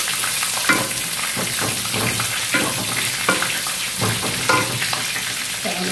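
Garlic and shallots sautéing in a pan, a steady loud sizzle broken by repeated scraping stirs every second or so, with no voices.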